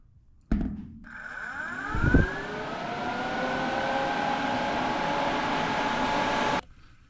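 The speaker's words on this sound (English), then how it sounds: "I just turn the compressor on and then I turn this little switch on." An air compressor kicks on and runs alongside the cooling fan of a DIY compressed air dryer's heat exchanger, a loud, steady mechanical whir and hum that holds for several seconds before cutting off abruptly.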